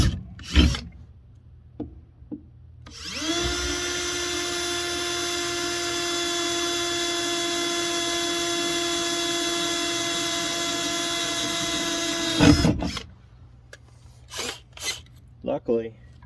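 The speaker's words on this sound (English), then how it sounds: "truck bodies like this, you know, ain't very hard to drill through" A steady, high-pitched drill whine runs for about nine seconds as it bores through a pickup truck's metal body, with a few short knocks before and after.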